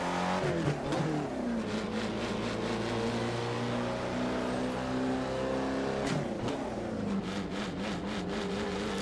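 An Alfa Romeo 33 Stradale's engine in the racing game Assetto Corsa hums loudly and steadily, its pitch sliding up and down with the revs, then dipping sharply around a gear change before pulling again.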